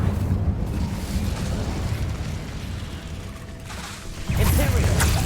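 The Incendio fire spell is cast in the Hogwarts Legacy game on PS5, a sustained roaring whoosh of flame with a heavier burst near the end, loud and dense with a voice faintly underneath.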